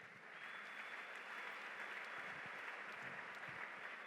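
Church congregation applauding during a sermon, a dense, even wash of clapping that holds steady throughout, no voices standing out.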